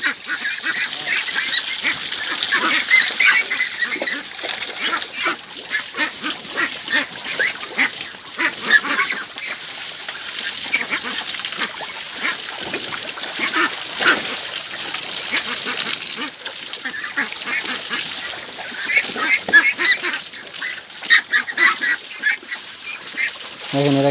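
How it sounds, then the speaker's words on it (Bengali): Ducks quack busily and continuously while being bathed in water, a dense chorus of overlapping calls close by, with faint splashing and occasional human voices underneath. "দেখেন এরা কি আনন্দ করে গোসল করতেছে"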